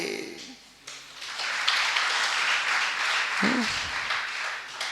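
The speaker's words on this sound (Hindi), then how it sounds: "तब भी ताली बज रही, देखा?" Audience applause during a Jain spiritual discourse in Nandani, a steady wash of many hands clapping that swells and holds through most of the stretch, with a brief voice surfacing near the end.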